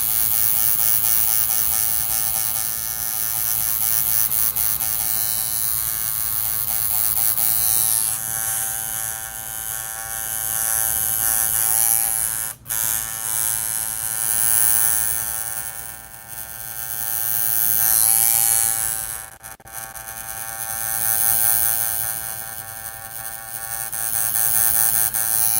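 Tattoo machine with a fine detail needle buzzing steadily and close, a continuous electric whine with mains hum underneath, briefly cutting out twice.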